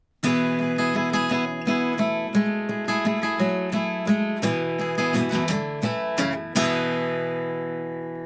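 Acoustic guitar plays the opening part of a song, bright picked melody over a ringing chord, alone and close, ending on a sustained strum that fades out.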